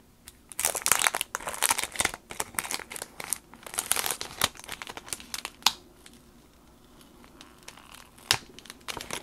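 During card making, adhesive tape is peeled away from paper with clustered crinkling, ripping bursts and scattered small crackles, close and fairly soft, easing off toward the end.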